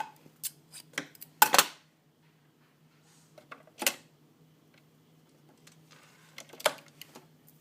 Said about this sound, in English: And trim it as close to the seam as you can without cutting into your stitches, of course.